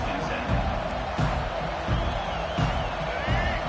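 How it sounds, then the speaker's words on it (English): A football stadium crowd roars in a loud, continuous wash of cheering that swells in waves and stays dense and distant-sounding throughout, with a commentator's voice faint underneath. "This crowd, full throat, splitting the eardrums and letting them know it's going to be a long day"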